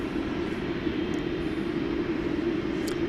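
A United Boeing 737 Max 8 airliner at DFW Airport at night gives off a steady, broad jet roar that holds at an even level throughout, somewhat distant, with no voices.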